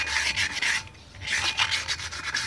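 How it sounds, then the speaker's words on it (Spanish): Mototaxi brake shoes and drum are sanded by hand, a close, harsh scratchy rubbing in back-and-forth strokes with a brief pause midway, with no talk. "Una buena lijada a las dos zapatas, igual al tambor."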